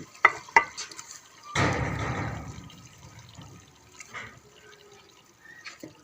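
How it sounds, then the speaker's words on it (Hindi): Coriander is tossed into a pot of potato cauliflower curry: a few quick clinks, then a burst of soft stirring and sizzling that fades into quieter scraping, with no talk. "पहले इसके अंदर धनिया ऐड कर लें।"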